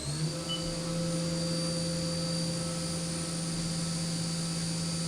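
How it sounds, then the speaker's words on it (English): The spindle of a Haas Mini Mill 2 CNC machine runs with a steady, close, droning whine and a constant tonal hum. It holds unchanged for five seconds, with no talking. "I'm gonna stop the spindle here"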